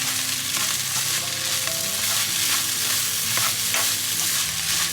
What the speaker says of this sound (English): Now we're just gonna mix everything up.